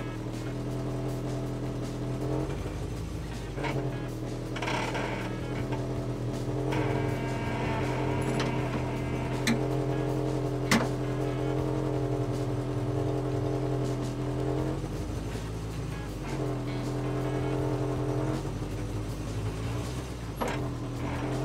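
Old V8 car engine rumbling at a low steady idle close by while nudging a long-wheelbase Mercedes Sprinter van back and forth, with faint swells and a few clunks over the continuous drone; no speech.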